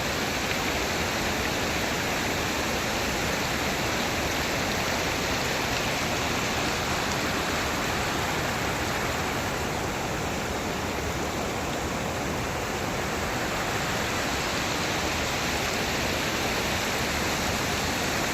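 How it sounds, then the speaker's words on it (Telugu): Water rushes through a river channel carrying a strong flow for crop irrigation, a loud, dense, unbroken roar of turbulent water that stays constant and close for the whole stretch, with no voices over it. "అక్కడ బాగా వస్తున్నాయి వాటర్."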